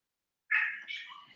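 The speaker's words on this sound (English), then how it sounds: "She's in the background meowing at me." A pet cat meows in the background of a room, one drawn-out cry followed by a second wavering call, moderately faint and heard alone without talk.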